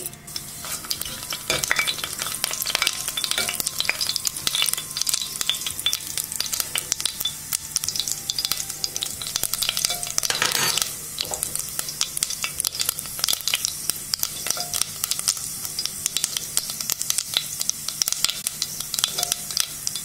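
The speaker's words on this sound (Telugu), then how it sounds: "ఆయిల్ వేడయ్యాక తాలింపు వేసుకుందాం" Loud, crackling sizzle of fenugreek, mustard and cumin seeds popping in hot oil, sustained throughout with dense spitting bursts.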